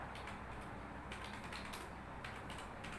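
Computer keyboard keys tapped in a steady, quick stream while someone types HTML heading tags, soft close clicks running continuously with no talk.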